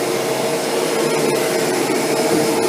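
A Shark Apex vacuum cleaner runs steadily, with a loud continuous whirring hum and faint brushing clicks as it is steered around corners on the floor.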